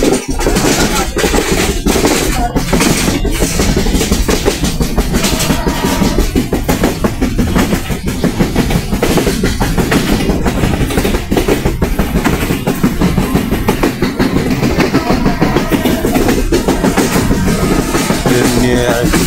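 A passenger train pulls away past Rajshahi station, heard from on board with a loud, continuous rumble and dense rhythmic clatter of wheels on rail joints, steady throughout with no voices.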